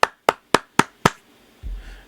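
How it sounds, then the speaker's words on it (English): A round of applause given by a single person: five sharp, evenly spaced claps in quick succession, close and loud, followed by a low rumble. "Hey, round of applause."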